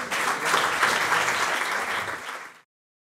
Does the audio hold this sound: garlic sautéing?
no